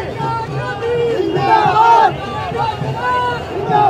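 A large, energetic crowd shouts and chants at an election road show for a Lok Sabha campaign in North East Delhi, loud, close voices rising and falling in waves, with overlapping calls and slogans throughout.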